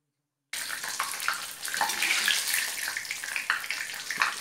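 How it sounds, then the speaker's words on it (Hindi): Corn poha flakes frying in hot oil in a pan for chivda, a steady loud hiss and crackle that starts after a brief silence and carries on with no talk. "मक्का पोहा और मक्का पोहा डाल के हम अच्छे से इसे फ्राई कर लेंगे"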